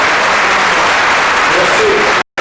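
A large audience at an official launch ceremony in Yamoussoukro gives a standing ovation, with dense, steady applause filling the whole stretch before cutting off abruptly near the end.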